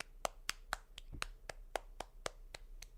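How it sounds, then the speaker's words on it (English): A round of applause at a Berklee College of Music gathering, heard as sharp, evenly spaced claps, about one every quarter second, quiet and close, like a single pair of hands clapping in steady rhythm. "So let's give a round of applause for them."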